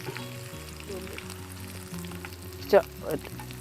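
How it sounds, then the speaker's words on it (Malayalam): Curry leaves dropped into hot oil with popping mustard seeds for Kerala sambar, a soft sizzle under a low steady hum with a couple of sharp crackling bursts near the end. "നമുക്ക് ലേശം കരിവേപ്പില ഇടാം"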